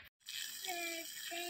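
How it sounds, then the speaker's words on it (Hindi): Water poured or sprayed while watering plants in the morning, a steady close splashing wash running almost throughout after a brief silent gap at the start, with faint tonal sounds briefly over it. "आप सुबह सुबह पौधा पानी पिला रही"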